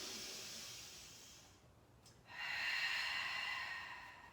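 Slow open-mouthed exhale as if fogging a mirror during a Pilates breathing drill, a soft airy hiss, then a short pause and a second louder breath, close and alone.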